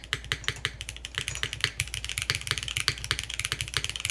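Rapid typing on a Finn 60XT mechanical keyboard fitted with milky yellow switches: a dense run of crisp, sharp keystrokes, close up and alone, with uneven rhythm and occasional heavier clacks.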